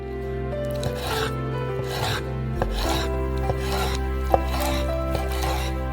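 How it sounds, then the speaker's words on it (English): Chicken thighs are cut into pieces with a knife on a board. Soft scraping and slicing strokes come in an irregular rhythm, broken by a few sharper taps, close and moderately quiet with no voices. "Last up, we have chicken thighs."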